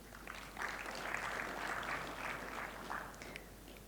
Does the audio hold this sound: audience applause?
yes